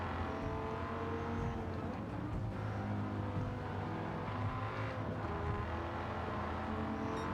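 A Dodge Viper GTS race car in Gran Turismo 7 on Tokyo Expressway, its steady droning engine note holding under braking and through a corner, fairly quiet and continuous throughout.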